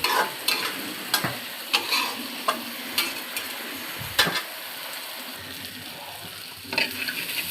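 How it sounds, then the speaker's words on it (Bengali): Chili and onion fry in oil with turmeric and salt, making a constant sizzle under a run of regular spatula knocks and scrapes against the pan, roughly ten sharp strikes spread across the stretch. "মরিচ পেঁয়াজ দিয়ে হলুদ লবণ দিয়ে ভেজে নেওয়া হচ্ছে।"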